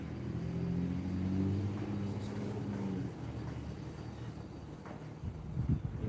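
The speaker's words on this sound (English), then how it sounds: "So I put the mufflers on it, quieted it way down." A car engine fitted with mufflers runs with a low, subdued rumble and a soft idle drone. It dips slightly partway through, and a few faint knocks come near the end.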